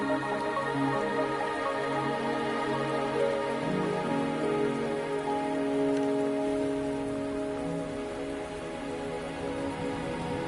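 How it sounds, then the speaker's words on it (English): Steady rain pattering on a surface in the game Wuthering Waves, a continuous wash of drops under a low tonal hum, with no voices. "Are you trapped here by the rain?"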